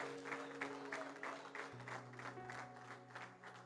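A church congregation at a night conference service applauds, faint, dense rhythmic clapping over a sustained musical tone that shifts midway, continuing steadily throughout.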